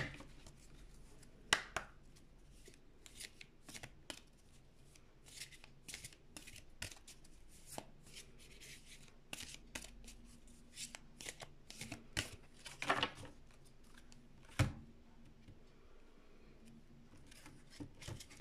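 Oracle cards are shuffled by hand in a quiet room, giving irregular bursts of crisp riffles, slides and taps that are close and fairly soft, with brief pauses between them and no talking.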